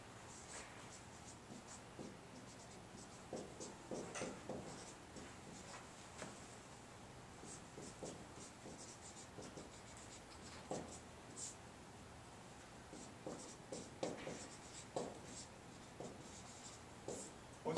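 A marker or chalk scratches out a line of code on a board, with soft intermittent strokes and taps spread over a quiet room and no speech.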